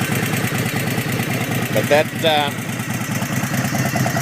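A 1997 Harley-Davidson Road King motorcycle idles steadily up close, its low rumble carrying as a constant bed under a brief spoken word and faint voice.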